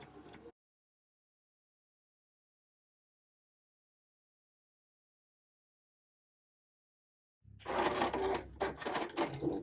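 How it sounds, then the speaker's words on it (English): Sewing machine chain piecing quilt block pieces, feeding one patch after the next, with a short burst at the start and then, after a long stretch of silence, a loud closing run of stitching. "I'm going to do what's called chain piecing, which means you just keep sewing from one to the next one"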